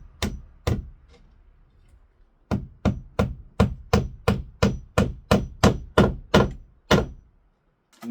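A hammer drives nails into a wall stud, with two sharp knocks followed after a pause by a steady run of about a dozen evenly spaced, solid thuds close by.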